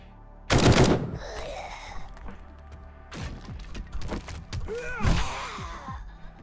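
A sniper rifle in the survival video game 7 Days to Die, a sharp, loud shot followed by quieter shots and movement, with grunting and groaning vocal sounds in between.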